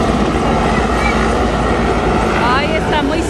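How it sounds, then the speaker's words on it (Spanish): A helicopter flies low and close overhead, its loud, steady rotor roar filling the whole stretch, while people talk excitedly beneath it. "¡Es un helicóptero!"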